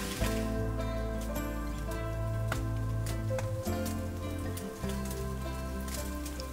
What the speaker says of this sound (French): Là il s'est mis à pleuvoir bien fort